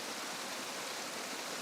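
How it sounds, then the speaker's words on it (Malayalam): Hot water is poured into a pan of quail curry, a soft, even hiss of running liquid that stays steady and fairly quiet throughout the short stretch, with no voices. "ചൂടുവെള്ളം വേണം ഒഴിച്ചു കൊടുക്കാൻ."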